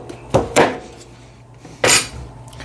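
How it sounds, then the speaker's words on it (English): A big sturdy knife is pounded down through an acorn squash, giving two sharp thuds close together, a pause, then one more heavy knock on the board. "just from the tip with your biggest, sturdiest, most badass big boy knife, just pound it down all the way through"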